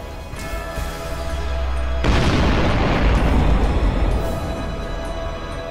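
Vanguard cannons fire in the Sunrider space battle, a rising rumble swelling into a huge roaring explosion that sustains loudly for a couple of seconds before slowly fading.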